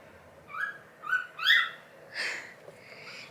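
Pet bird calling indoors, three clear whistled notes in quick succession followed by a couple of softer, breathier calls, close by with no talking.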